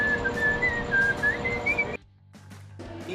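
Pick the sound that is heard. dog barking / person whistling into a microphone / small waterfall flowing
person whistling into a microphone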